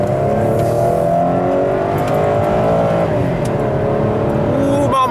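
A GMC Sierra pickup truck accelerates at full throttle with a loud, continuous engine roar that climbs steadily in pitch, heard close from the cab.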